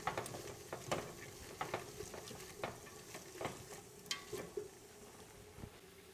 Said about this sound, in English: give everything a stir. We just want to saute this tomato paste and let it brown and turn dark